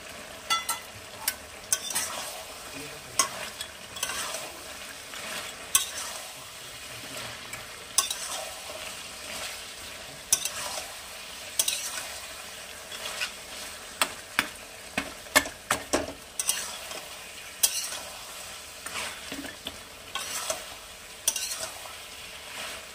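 Fried fish heads are stirred in a frying pan while the oil sizzles steadily, and a utensil scrapes and clatters against the pan in frequent irregular strokes, close by with no talking.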